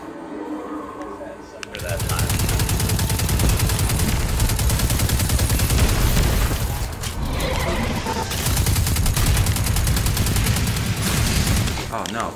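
Sustained gunfire from Destiny 2 combat, dense and loud, starting after a quiet opening and continuing almost without pause, with a brief dip near the middle and voices mixed in.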